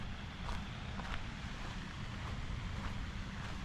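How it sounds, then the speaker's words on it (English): A fountain splashes into a pond at night behind Georgiaville Pond, Rhode Island, producing a steady, continuous wash of falling water with no pauses, fairly close and alone without voices. "The sound of the fountain in the water is soothing."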